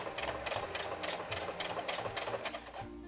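A domestic sewing machine runs short bursts of backstitching on fabric for a document case, a quiet mechanical whir and rattle in quick repeated pulses that stops near the end.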